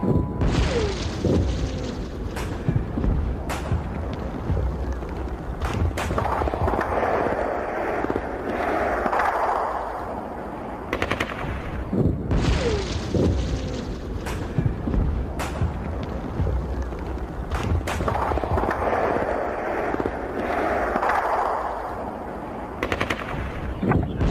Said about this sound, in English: Mud, muck, misery, and melancholy reign supreme, and a pitiless bombardment adds to the general discomfort